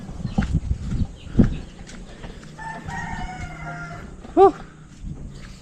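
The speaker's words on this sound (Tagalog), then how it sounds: "Ito tayong manok guys." A rooster crows a drawn-out call against farmyard background noise, with a short sharp call and some shuffling thumps nearby.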